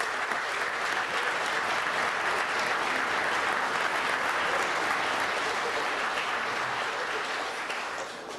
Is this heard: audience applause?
yes